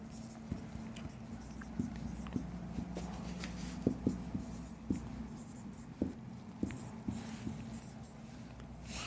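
Numbers being written on a board with chalk or pen, a quiet series of light taps and strokes at an uneven rhythm over a faint steady hum.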